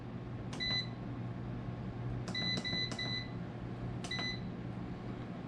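A food dehydrator set up for drying onions gives a series of short electronic beeps as its temperature is set: one pair first, then three quick beeps in a row and a final beep, over a steady low hum.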